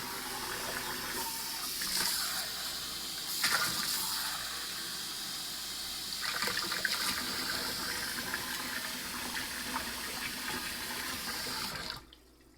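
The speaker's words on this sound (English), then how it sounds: "And then a cup of water and a cup of quinoa." Tap water pouring into a cup in a kitchen for cooking quinoa, a steady gushing stream with shifting splashes that runs for about twelve seconds, then cuts off abruptly.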